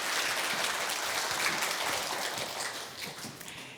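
Applause from the audience at a regional policy concert welcomes a travel content director's tourism lecture, a room of hands clapping evenly and fading slightly toward the end.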